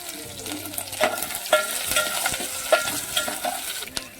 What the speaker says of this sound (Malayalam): ഇനി കറിവേപ്പില ഇട്ട് കൊടുക്കാം.